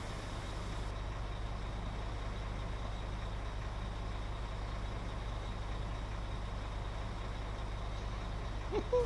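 A steady, low diesel engine rumble from a truck in Construction Simulator 2015 hums continuously, like idling or cruising, with a faint clunk right at the end.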